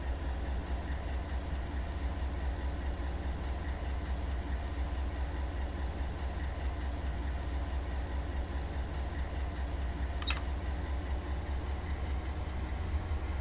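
A 12,000-ton coal train rolls along in the Run 8 Train Simulator game, its diesel locomotives giving a steady, even low rumble with faint squeaks and clicks over the top.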